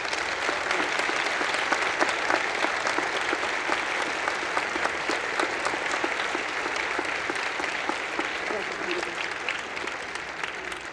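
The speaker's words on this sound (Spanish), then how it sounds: "para quien pido un nuevo aplauso," Sustained audience applause for author Anabel Hernández at the Guadalajara International Book Fair (FIL), a dense, steady wash of many hands clapping at even loudness throughout.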